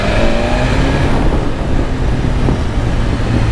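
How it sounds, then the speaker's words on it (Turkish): Sporty engine rumble from a 2023 BMW S1000 RR motorcycle running without its exhaust, a loud steady near drone with faint crackling pops, no talk. "bu egzozun pıtı pıtı pıtı çıt pıtı pıtı yapması"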